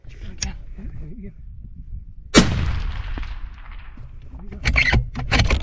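A rifle shot fired at an elk during a hunt cracks out loud and sharp midway, followed by a rumbling decay, with low background noise and muffled voices talking before and after.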